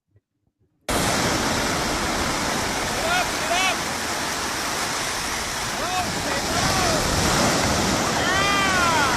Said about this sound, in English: Now we're going to see what happens the first time Ash ever even got in the water with a surfboard.